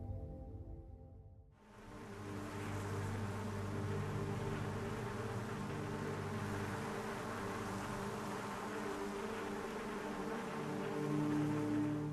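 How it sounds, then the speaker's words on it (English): Flies buzzing around corpses lying on the ground at the end of the Limbo video game, a steady, dense insect drone that fills the scene at an even level after a brief quiet start. "you're left with the sound of flies buzzing around their corpses on the ground"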